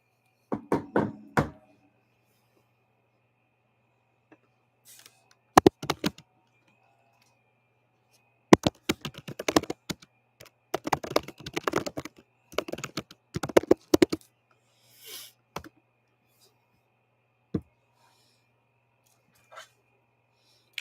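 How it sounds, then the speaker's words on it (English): Bursts of crisp clicking keystrokes come from a clicky computer keyboard, typed in irregular clusters separated by quiet pauses, close and fairly loud against a silent room. "Get my click-clacky keyboard."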